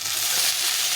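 Malabar spinach stalks dropped into a hot pan, a brief, loud, bright sizzle with crackling spatter.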